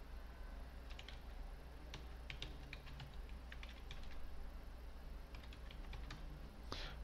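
Keys clicked on a computer keyboard while a passphrase is entered: soft, scattered keystrokes in short runs with brief pauses, quiet and close over a steady low background hum, with no talking.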